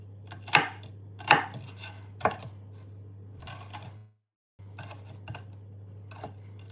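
A sharp knife chops on a board close by. Three loud strikes come first, followed by a run of lighter, quicker cuts, a brief silence, then more soft chopping over a low, steady hum.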